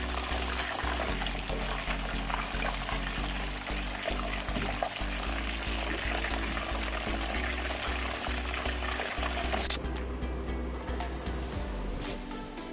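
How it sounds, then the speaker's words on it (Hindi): Leftover chicken pieces frying in a pot for a steamed chicken roast, a loud, continuous close sizzle with crackle and some stirring, no talk. "और जो बाकी के चिकन रह गया वो फ्राई कर लेते हैं"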